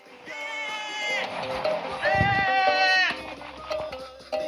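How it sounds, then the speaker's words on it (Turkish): A microwave oven gives off a wavering, goat-like bleating tone in two long, loud stretches. A thud and rattle come between them, and a quieter hum follows. "Çünkü keçi sesi çıkarıp pizza çıkartıyor."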